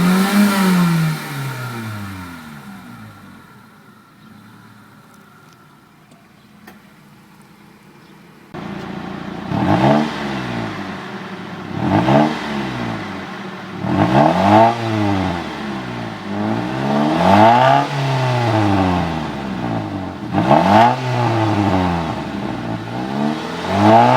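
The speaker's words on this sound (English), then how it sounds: "Fantastic sounding engine." A 1999 Mitsubishi Lancer GLXI engine revved repeatedly, about six to seven rising and falling rev sweeps after a quieter idle stretch, loud and close with no talking.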